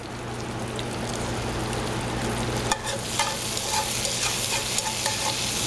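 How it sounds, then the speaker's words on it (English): Garlic and potato chunks sizzle steadily in a hot pan, a dense close frying hiss with a few sharper pops and stirring clatters toward the end. "It should start sizzling as soon as I put it in there. Yeah, nice sizzle to it."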